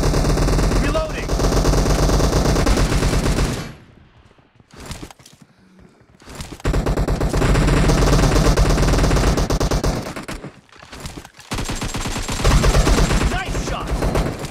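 Gunfire in the video game PUBG, long loud bursts of rapid machine-gun fire broken by short pauses with footsteps and shuffling, dense and close throughout.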